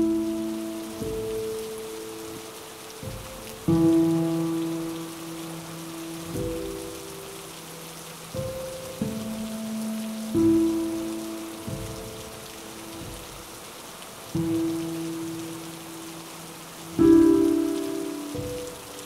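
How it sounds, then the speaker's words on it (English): Steady rain falls in a video game, a soft continuous wash that runs under recurring melodic game music with chord-like tones throughout. "This rain is making things really difficult to record right now."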